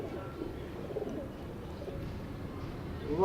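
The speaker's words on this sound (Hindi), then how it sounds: "ये उस कबूतर की मादी दिखा रहा हूँ आपको।" Pigeons in a loft give soft, low cooing murmurs, quiet and continuous over a faint background hum.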